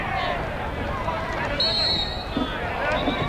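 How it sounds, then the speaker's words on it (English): A field hockey stadium crowd in Adelaide swells as spectators rise during a men's Champions Trophy match between Australia and Germany, a broad roar of cheering and babble under a commentator's voice. "Crowd on its feet."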